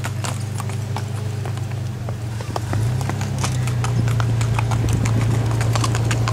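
Horse hooves clip-clop in a steady, rhythmic procession during a horseback cavalcade in Aguablanca, loud and continuous over a low engine-like hum.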